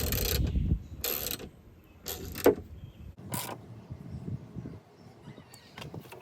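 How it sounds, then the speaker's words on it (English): Ratchet with a T30 bit tightening screws on a 2011–2019 Dodge Journey door during lock actuator repair: several short bursts of ratcheting clicks separated by pauses, close and moderately loud, with faint handling noise and no talking. "Now to tighten these more, I'm going to take the ratchet with the T30."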